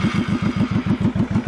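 A 2000 Honda Shadow Ace Tourer VT1100 motorcycle engine runs with a rapid, throbbing pulse, loud and close, with a rough mechanical clatter.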